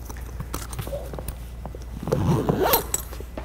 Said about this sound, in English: So we just zip it up on either side